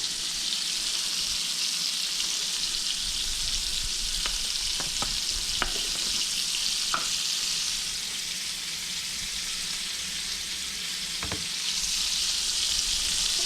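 Deer tenderloin seasoned with all-purpose seasoned salt fries in a pan, making a steady close sizzle throughout, with a few sharp clinks and scrapes now and then.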